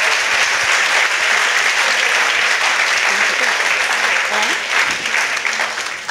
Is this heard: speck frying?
no